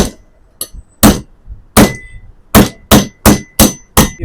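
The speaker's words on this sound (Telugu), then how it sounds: "ఫిక్స్ క్లాంప్ యొక్క సైజ్ అయితే చూసుకొని పైనుంచి పెట్టుకొని కొట్టుకుంటే బుష్ అయితే," A hammer strikes a clamp to drive a new bushing into a Pigeon mixer-grinder motor, giving sharp metallic clangs, a few spaced then a quicker run of about five blows, close and loud.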